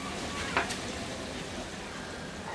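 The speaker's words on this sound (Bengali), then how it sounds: "কিন্তু আমি এই অল্প আঁচেই ভাজবো" Laccha semai vermicelli frying gently on a low flame, a soft steady sizzle running throughout with a brief brighter crackle near the start.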